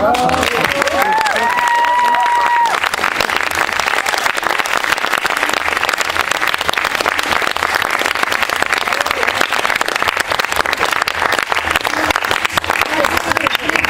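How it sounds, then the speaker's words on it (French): A theatre audience gives the troupe sustained applause: loud, dense clapping with crowd noise and some cheering, a brief sung or whistled tune over it early on, and voices mixed in throughout. "Je crois qu'on peut les applaudir encore."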